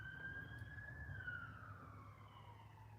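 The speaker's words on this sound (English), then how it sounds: "it's really not very often that I would hear police or ambulance sirens" A police or ambulance siren wails far off across open countryside, its faint tone sliding slowly downward as it recedes, heard alone over low rural background rumble with no talk.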